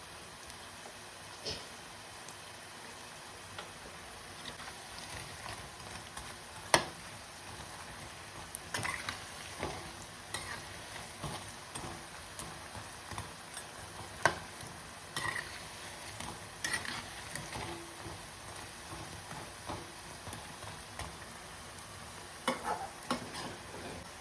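Idli batter bondas deep-fry in oil over a low flame, giving a soft, even crackle and sizzle throughout with occasional faint clicks and pops, heard alone and fairly quiet.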